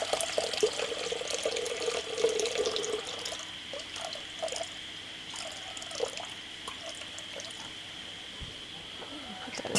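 Water poured for bread dough at an off-grid Australian home, a tap-like stream running for a few seconds then tapering into drips and trickles, with a voice talking over it.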